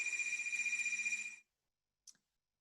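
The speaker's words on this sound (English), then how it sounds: "the phone's ringing" An electronic telephone ring warbles steadily for about a second and a half, then cuts off, and a faint click follows in the silence.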